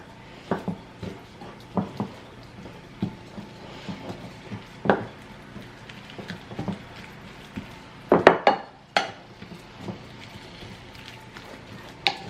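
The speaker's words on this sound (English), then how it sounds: "I'm just going to stir that up." Food being stirred in a pot while cooking dinner at home, with irregular clinks and scrapes of a utensil against cookware, some louder knocks in a cluster partway through, fairly close and with no talking.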